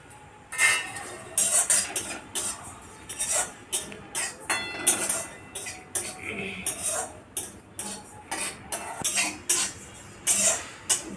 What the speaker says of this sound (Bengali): একটা অন্য কড়াই বসিয়ে দিলাম, কড়াতে জিরে ভেজে নিচ্ছি।